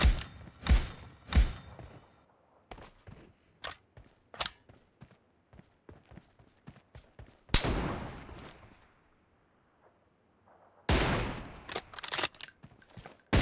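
Sharp gunshots from an M24 bolt-action sniper rifle in a Battlegrounds Mobile India team deathmatch, heard as a cluster of quick cracks, then scattered thuds and footsteps, with two loud, heavy blasts standing out later on.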